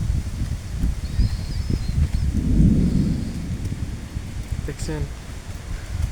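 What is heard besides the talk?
strong cyclone-like wind outdoors by a village pond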